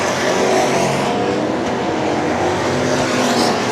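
Race cars roar around the Cotton Bowl Speedway track in a steady, loud, continuous engine drone with no breaks or pauses.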